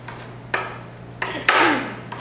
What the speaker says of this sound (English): I'm just kind of chopping it up for time's sake